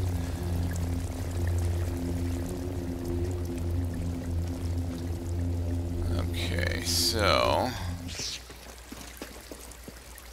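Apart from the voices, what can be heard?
flowing water in the video game Star Wars Jedi Fallen Order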